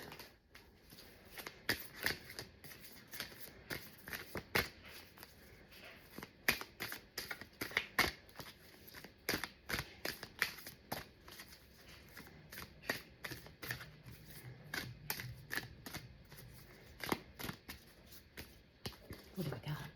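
Tarot affirmation cards being shuffled up close, repeated crisp riffles and flicks in an irregular rhythm, with a voice talking intermittently underneath.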